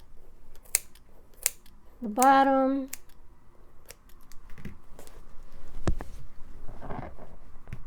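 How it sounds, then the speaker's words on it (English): A few crisp scissor snips and clicks cutting yarn for a crochet scarf, with a person speaking briefly over them and a short harmonic voice-like sound in the middle. "then you take the scissors, cut"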